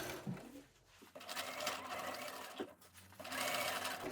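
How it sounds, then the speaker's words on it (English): A sewing machine stitches a facing onto a diamond-shaped trouser hem, running in a steady close whirr with a short pause near the start and another brief break toward the end. "And you can keep going with your sewing."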